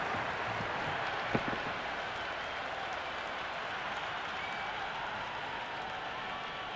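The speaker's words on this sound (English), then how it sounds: "It's the most enthusiastic crowd you could ever see right now." A cricket stadium crowd from the video game Cricket 26 roars and applauds in a steady, dense wash of noise, with one sharp clap-like spike early on and no voices standing out.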